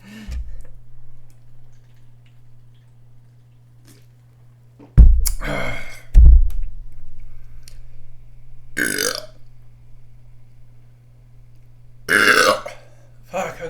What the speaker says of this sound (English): I was like, man, I should enter like a burping competition or something